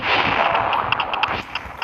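Explosions in the Roblox video game sound as a rapid cluster of sharp blasts and crackling pops, loud and close, over a dense noisy background.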